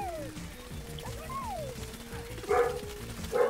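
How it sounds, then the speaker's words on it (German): A dog barks twice close by, short loud yelps late in the moment, while someone talks in German over the sounds of a Plants vs. Zombies Garden Warfare 2 game session. "es tut mir leid, wenn der Hund jetzt wieder bellt"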